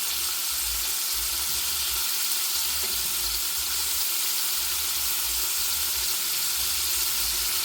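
Sausage sizzles steadily in a hot pan on a home stove for a cabbage and sausage supper, a loud, continuous frying hiss with a low rumble beneath and no voices.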